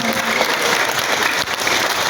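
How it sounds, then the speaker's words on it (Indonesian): Children's audience clapping at a storytelling show, a dense, loud, continuous burst of applause lasting a couple of seconds with no talk over it. "Itu tepuk tangan dulu semuanya"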